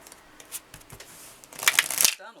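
A deck of animal oracle cards is shuffled by hand nearby. Light riffling taps come first, followed by a louder burst of crisp card flutter near the end.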